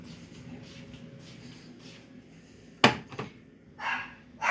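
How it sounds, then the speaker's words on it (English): A few dogs bark briefly in the distance, one sharp bark followed by a couple of short yips, against a quiet indoor background of faint shuffling. "And these are the dogs. The dogs barking at me."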